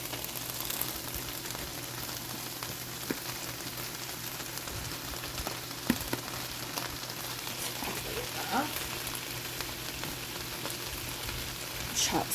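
Smoked sausage and mushrooms fry in a skillet with a constant soft sizzle and faint crackle, fairly quiet, with occasional small stirring taps and no talk.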